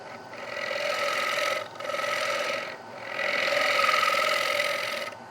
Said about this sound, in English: Okay, so let's sand this side.